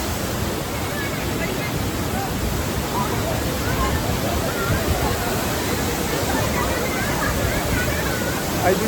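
A steady, loud roar of falling water fills the scene continuously, dense and broadband like a nearby waterfall.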